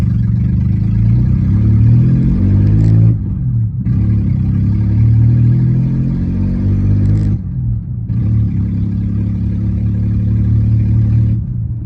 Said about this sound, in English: Brakes are scraping real bad.